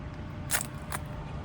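Two crisp camera shutter clicks, about half a second apart, as a before photo of truck wheels is taken during a wash, each click short and close over a steady low background hum.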